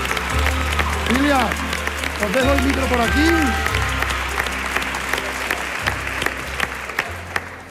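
Loud audience applause at a TV talent show grand final for the ballroom scene, steady dense clapping over pulsing music with cheers, while a presenter speaks at the start.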